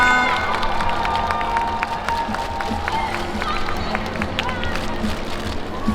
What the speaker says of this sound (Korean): 모두 뜨거운 박수 부탁드리겠습니다.